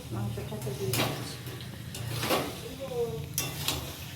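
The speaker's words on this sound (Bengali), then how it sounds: "এখন মাংসটা আস্তে আস্তে কষবে" Meat cooking slowly in a pot for kosha mangsho, giving a soft, low sizzle with occasional scrapes and clinks of stirring, quiet and close, with faint room sounds behind.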